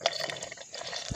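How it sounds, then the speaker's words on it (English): Water from a garden hose splashes and gurgles into a fish tank in a steady, close, bubbling stream with a few drips, ending in a low thump, with no talking. "To get that out, you put the hose on."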